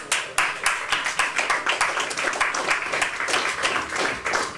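An audience at a concert claps for a violinist, a dense and steady burst of applause with many overlapping hand claps that holds at an even level throughout, with no voices on top.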